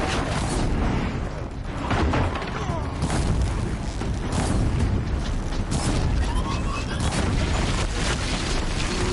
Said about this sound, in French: Oh l'enfoiré, il me tire dessus.